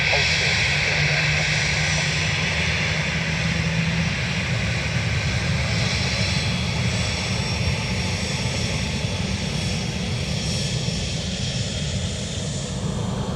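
Logan Air ATR turboprop engines running at Dublin Airport, a steady droning roar with a faint tonal hum, continuous and fairly loud throughout.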